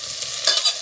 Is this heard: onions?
yes